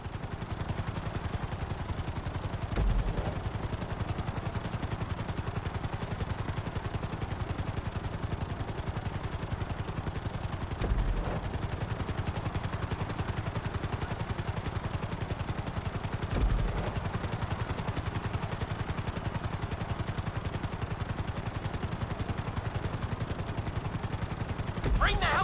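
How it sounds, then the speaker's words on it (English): A helicopter flying in GTA V during a flight school landing on a helipad, a steady droning rotor and engine hum that holds constant throughout, with a few faint thumps along the way. "Bring the helicopter down gently onto the helipad."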